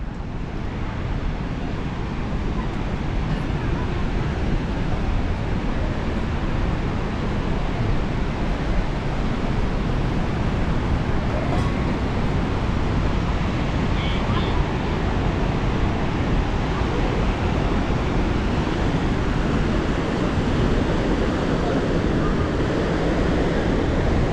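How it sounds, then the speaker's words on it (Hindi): Steady, dense rushing of flowing water at Vasudhara Falls near Badrinath, Uttarakhand, fills the whole span, loud and close, with a broad constant roar and no pauses. "यहाँ अंदर कहीं से पानी निकल रहा है"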